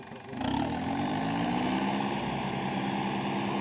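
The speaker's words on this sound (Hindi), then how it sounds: "ट्रैक्टर की आवाज भी देखियो" Mahindra 585 tractor with an added turbo, engine revving up and holding a steady loud drone with a high whistle, close by, with a voice briefly underneath.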